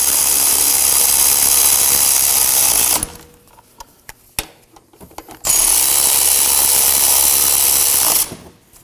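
Power tool or ratchet snugging rear parking brake bolts on a 2014-2020 Acura MDX, loud continuous whirring in two bursts with a quiet pause of small clicks between them.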